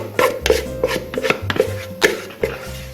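A spatula scrapes chocolate brownie batter from a bowl into a baking pan, a series of short rhythmic scraping and tapping strokes, close and fairly loud, with no talk.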